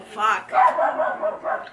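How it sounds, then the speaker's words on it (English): A dog barks a few short woofs in a home, near and fairly loud, with a person's voice mixed in. "And that's my dog barking."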